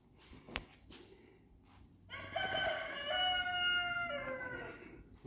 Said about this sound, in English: That's Rooster, my rooster.